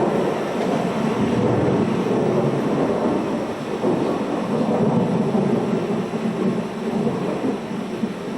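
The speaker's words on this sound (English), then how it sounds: "The most violent of storms was unleashed upon our city and its forts." A violent thunderstorm in a video game set over a colonial city and its forts: a steady, loud roar of rain and wind with deep rolling thunder rumbling underneath, continuous throughout.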